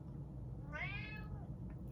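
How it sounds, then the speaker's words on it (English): Cat meowing once in a rapid, drawn-out, wavering call, clear and close over a steady low background hum. "Do you hear this cat? He is talking as fast as I am."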